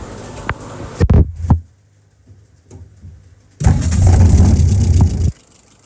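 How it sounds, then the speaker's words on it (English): A Yamaha YS 637S engine sputters through a few short cranking bursts, goes quiet, then catches into a louder steady running rumble for nearly two seconds before cutting off. "let's go ahead and fire it up"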